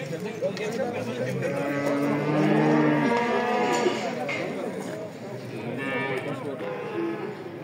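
A three-year-old Simmental cow moos in long, drawn-out lowing calls, close and loud, with livestock market noise around it and no speech.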